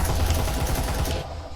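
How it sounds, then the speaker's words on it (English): Gunshots in a competitive online shooter match, a rapid, loud burst of automatic gunfire rattling close and continuously, then tailing off toward the end. "There's gunshots."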